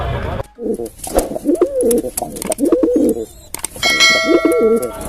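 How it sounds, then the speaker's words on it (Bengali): Loud, close cooing from a domestic male pigeon at a pigeon market repeats in throaty rolling phrases, with a clang and a ringing metallic tone near the end. "এটা তো তোমার বাড়ির পায়রা"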